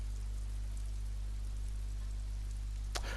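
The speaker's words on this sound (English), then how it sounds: "it sounds like it's raining heavier now" Heavy rain pours steadily in Disco Elysium, a dense continuous hiss over a low constant hum, with one brief sharper tap near the end.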